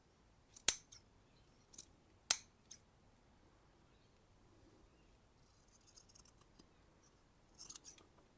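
A pair of scissors freshly sharpened on a Tormek T8 with a scissor jig snips several times, each cut a crisp isolated metallic snip in a quiet room, followed by faint light handling noises.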